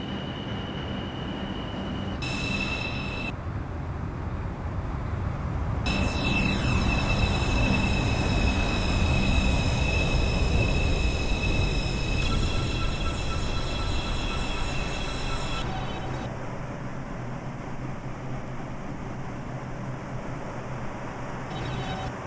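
A Bombardier R152 subway train on a Queensbound 9 local service pulls into Woodlawn–Jerome Avenue station in the OpenBVE simulator, with a loud, steady rumble of rolling wheels, high electric motor whine and tonal squeals that fade as it slows to a stop.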